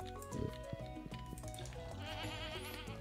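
In the Stardew Valley farming game, a sheep bleats in short wavering calls over steady background music and a light chiming effect, with no voices.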